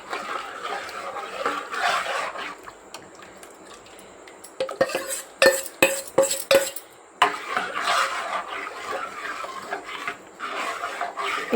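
Sago flour batter for papad is stirred in a pot on a low-flame stove, a spoon scraping and knocking against the metal in irregular clattering bursts, with louder clanks in the middle and soft swishing between.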